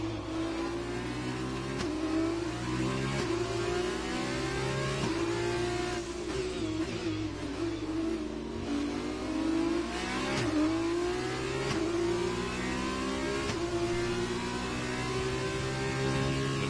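Open-wheel F2 race cars in a racing video game roar down the long Baku straight, engines holding a steady high-pitched drone with several cars running close together and slipstreaming, loud and continuous throughout with no talk.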